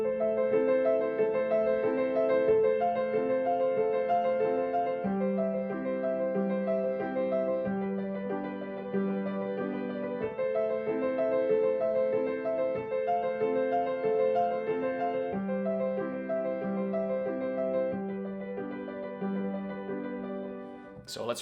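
A piano plays steady bass chords in the left hand beneath flowing broken arpeggios, repeating in regular phrases, clear and close with no voices.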